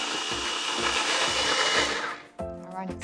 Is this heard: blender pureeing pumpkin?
yes